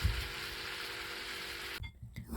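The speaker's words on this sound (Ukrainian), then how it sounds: "Куряче філе обсмажую на рослинній олії." Steady sizzling of chicken fillet frying in hot vegetable oil, close and even, cutting off abruptly near the end.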